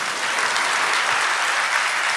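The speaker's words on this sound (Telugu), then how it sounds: "చప్పట్లు కూడా దేవుని మహింపరచండి." A church congregation claps together in praise of God, dense steady applause that holds loud and continuous from start to finish with no voices over it.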